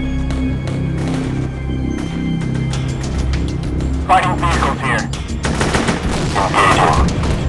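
Gunfire in the real-time strategy game Warfare: rapid, rattling shots crackle over a low rumbling background, growing denser toward the end while voices call out.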